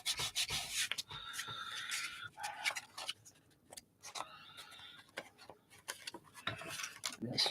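Paper being pressed down and rubbed by hand while assembling a mixed media page, with repeated close scraping and rubbing strokes in uneven bursts and a few small taps.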